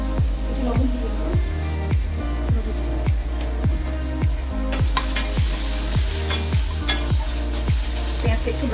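Onions frying with a little oil and a pinch of salt, a continuous close sizzle punctuated by regular spatula strokes scraping the pan about twice a second, with no talk over it.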